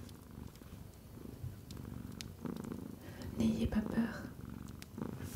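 A close, soft human voice imitates a cat's purr in a low, continuous, rumbling murmur, quiet and intimate, with a brief spoken line.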